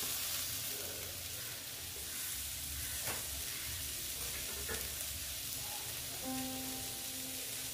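Jackfruit curry with chopped tomato frying in a pan, a steady soft sizzle with occasional stirring scrapes, close but low in level.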